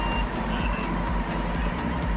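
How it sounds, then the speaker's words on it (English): A lorry reversing on a road on the outskirts of Cheddar sounds a steady, repeating electronic beep over a constant low engine rumble, loud and close, with no talk. "Go on, lorry, let us out."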